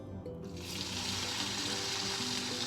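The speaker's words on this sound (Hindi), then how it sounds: "यहाँ लहसुन अदरक फ्राई हो चुका है" Garlic and ginger sizzle steadily in a cup of hot oil in a preheated karahi, a dense, continuous crackling hiss that fills the whole stretch, loud and close with no talking.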